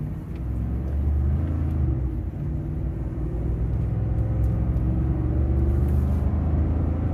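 A 2015-2018 Ford F150 with the 5.0 V8 and a cold air intake pulls under moderate acceleration, a steady, loud low-pitched engine drone and rumble that holds throughout with no speech.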